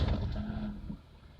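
A Hyundai Eon engine, just back together after fuel rail and injector cleaning, turns over and settles into a steady low idle, heard close and briefly.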